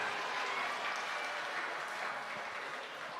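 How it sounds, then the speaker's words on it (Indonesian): Steady applause from a church audience at a children's Sunday school Christmas service, a dense even patter that holds for the whole stretch at moderate volume with no voices over it. "Semuanya tepuk tangan untuk Tuhan"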